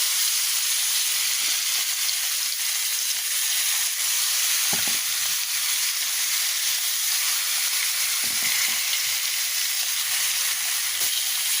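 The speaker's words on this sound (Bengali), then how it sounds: "মাছে হলুদ লবণ মাখিয়ে রেখেছি এটাকে একটু ভেজে নেব তা ভাজার জন্য এই যে প্যানে তেল দিয়ে দিয়েছি" Fish rubbed with turmeric and salt fries in oil in a pan, a constant loud hiss and sizzle with a few faint pops and spatters, no voices.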